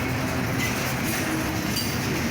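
A long CSX freight train hauling many tank cars rolls past Woodbourne station, a steady close rumble of wheels and cars with faint high squeals, loud and continuous with no talking.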